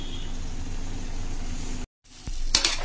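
Chola with onions cooking in a kadhai, giving a steady sizzle and bubbling hiss that cuts out briefly, then returns with a few clinks and stirring sounds.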